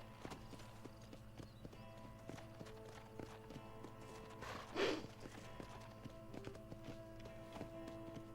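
Horse hooves clip-clop at a steady walking pace in the video game Red Dead Redemption, a rhythmic clatter over a soft ambient hum, with a brief louder snort or rustle midway.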